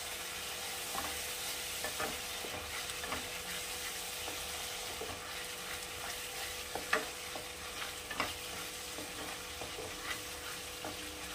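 Cumin paste and onions sauté in a pan with a steady soft sizzle, punctuated by scattered scraping and clicking strokes of a spoon stirring the mixture.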